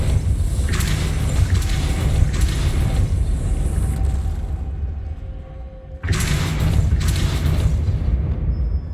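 Depulso force spell cast in the Hogwarts Legacy video game, a loud sustained rumbling blast that drops out briefly before surging again, with no talking.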